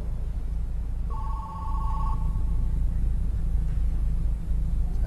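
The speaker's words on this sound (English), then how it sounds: "We took all the phones off the hook, they kept ringing" A telephone that has been taken off the hook gives a single short, faint electronic ring, nearly buried in a constant hiss of background noise.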